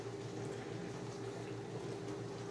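Hot water in a kettle gives a steady, faint hiss and low simmering rumble that stays even throughout, with no voices.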